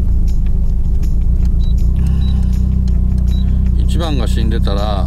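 A car engine idles steadily with one spark plug cut, running rough on three cylinders as a low continuous rumble; a few brief chirps and squeaks occur near the end, with no talk.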